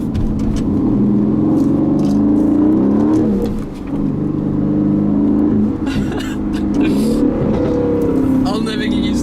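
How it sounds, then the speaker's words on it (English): A 2019 Aston Martin Vantage engine drones steadily while driving, a loud continuous rumble with rising and falling revs heard from inside the cabin, with a brief dip in intensity midway. "let's enjoy the drive and just listen to this Aston Martin sing"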